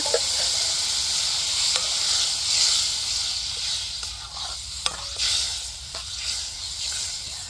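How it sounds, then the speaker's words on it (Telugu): Curd stirred into a pan of hot tempering, a steady loud sizzle and hiss with scraping stir strokes and a few sharp clicks of the spoon against the pan, close and continuous with no talking. "ఇప్పుడు దీంట్లో వేసేసుకుందాం పెరుగు డైరెక్ట్గా వేయించకూడదు కాబట్టి అలా దించిన తర్వాత వేయించుకుంటున్నాం"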